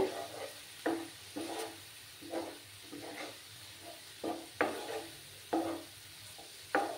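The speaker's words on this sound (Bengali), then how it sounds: "সেই টমেটোটাও দিয়ে দিচ্ছি এখন। দিয়ে ভালো করে মশলার সঙ্গে কষাতে হবে।" Chopped tomato stir-fried with spices in a pan for egg masala curry, a spoon scraping through the mix in regular strokes over a soft, steady sizzle, close and fairly quiet.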